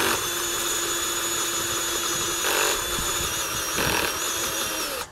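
A cordless drill runs continuously with a steady high whine, rising slightly in strain twice as it bites into the workpiece, close and loud, then cuts off abruptly at the end; no talk.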